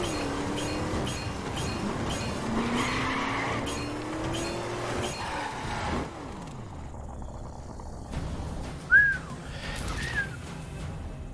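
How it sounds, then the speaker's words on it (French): Car sliding and skidding in The Crew racing video game, with engine roar and a brief tire squeal near the end, loud and continuous throughout, no talk. "Elle glisse trop, la voiture."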